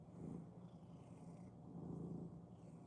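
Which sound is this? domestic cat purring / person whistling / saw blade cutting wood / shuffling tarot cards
domestic cat purring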